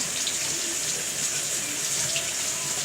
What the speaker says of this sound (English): So you wash the yam